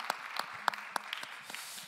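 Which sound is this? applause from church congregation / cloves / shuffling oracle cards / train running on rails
applause from church congregation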